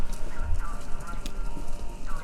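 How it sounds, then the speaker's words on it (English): Horse hooves clip-clop at a quick gallop in the Kentucky Route Zero video game, a steady rapid patter over a low ambient hum, with a short whinny-like tone among the beats. "Horse is running."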